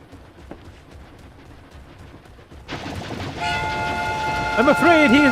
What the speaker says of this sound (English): I must stop the runaway wolf train!